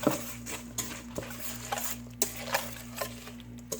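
A spoon stirs mayonnaise and mustard together in a bowl, making repeated soft clinks and wet scraping strokes in an uneven rhythm over a low, steady background hum.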